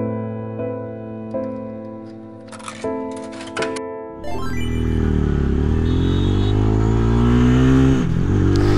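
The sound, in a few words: Chinese motorcycle engine running lean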